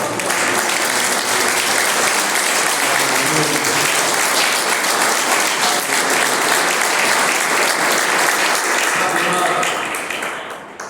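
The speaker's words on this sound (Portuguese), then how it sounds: "Vamos aplaudir o Senhor." A large church congregation breaks into loud, sustained applause, a thick continuous roar of clapping that holds for about ten seconds before easing off at the end.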